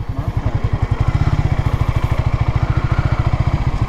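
A motorcycle engine runs close by with a loud, rapid, even thumping pulse, as if idling or ticking over slowly, and it holds steady for a few seconds with no talk over it.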